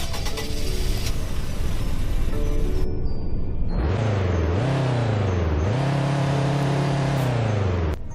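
A front-wheel drive 2.0T Sportline car in Roblox Greenville revs up from idle, its engine tone rising, dipping, then climbing again in two strong pulls, loud and close, after a stretch of steady background noise.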